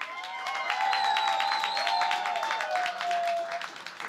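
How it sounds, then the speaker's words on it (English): Audience applause at a hip-hop hall of fame induction ceremony, steady dense clapping for about four seconds with bright overlapping tones, probably music or feedback, running through it. "Give us some more claps."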